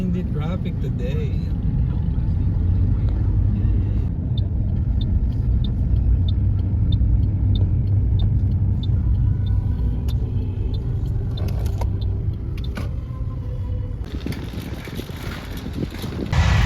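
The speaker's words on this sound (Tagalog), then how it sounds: "Traffic today." Road traffic on an island street near an airport, a steady rumble of car engines and tyre noise heard from inside a moving vehicle with some wind buffeting throughout.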